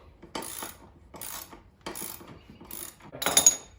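A socket wrench ratchets in five short bursts of rapid clicking while it tightens a lawn mower blade. The clicks are close and crisp, with brief pauses between strokes.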